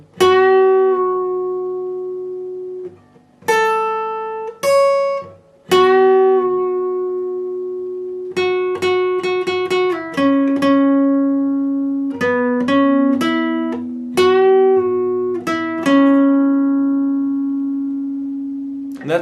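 Guitar playing part 1 of a riff slowly: plucked single notes and dyads ringing out with sustained tones, sparse at first, then denser picked notes, clear and close with no voices.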